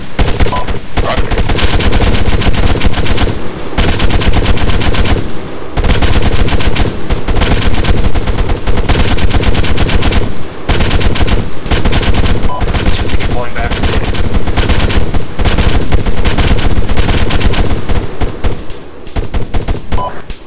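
Gunfire suppresses a hill on the Chernarus map in the ArmA 2 game: loud, near-continuous bursts of automatic fire, with brief gaps between the volleys.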